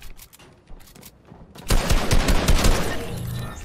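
Rapid Fortnite gunfire, a dense burst of shots that grows louder and sustained midway, close and harsh.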